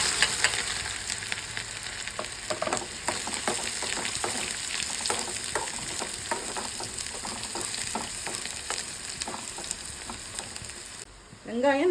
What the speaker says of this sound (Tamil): வெங்காயம் நல்லா வசங்கிடுச்சு